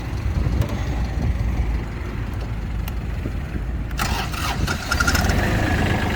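Hinomoto CX16 Japanese mini tractor engine cranking and firing up outdoors, a rough mid-pitched rumble that steadies, then grows louder and busier as it catches and runs.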